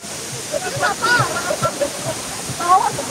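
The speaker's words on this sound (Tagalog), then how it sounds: "The majestic Tinoyan Falls." Tinuy-an Falls roars as a steady, broad rush of falling water. Scattered bird calls and faint voices rise over the wash.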